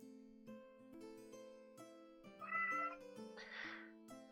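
A cat meowing softly among sustained background music tones, with a couple of drawn-out meows standing out near the end, faint and fairly distant.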